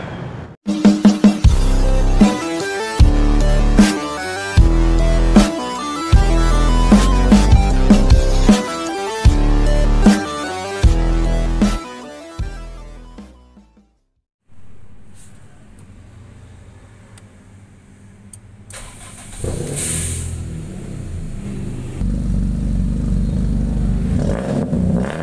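A car with a Valvetronic switchable two-mode dual-outlet exhaust revs in a series of loud, sharp bursts separated by brief pauses, then drops to a quieter idle, followed by a steady, louder running tone.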